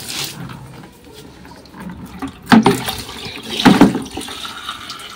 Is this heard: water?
yes